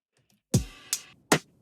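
Loud, aggressive lo-fi drum groove with no filter applied: a heavy kick-and-snare hit followed by two more punchy hits, close and dry, with no voices.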